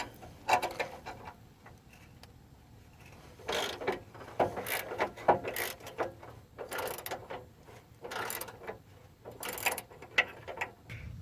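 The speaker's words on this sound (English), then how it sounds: "I'm holding the wrench with one hand and the ratchet with another and just twisting with both of them" A ratchet and wrench work an 18 mm bolt on a truck's front suspension, giving quiet clicking and metallic turning bursts in uneven spurts with short pauses, close by and without speech.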